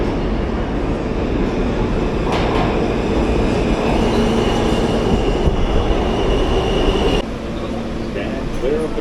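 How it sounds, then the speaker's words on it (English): A subway train rumbles steadily into a station in the United States, loud and close, with rail noise and a faint screech as it slows; people talk in the background. "All right, we're at the train."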